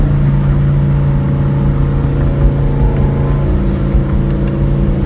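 A Ford Mustang 5.0 engine roars at a steady high pitch through a hard first gear pull, loud and close, with a constant heavy drone and no break.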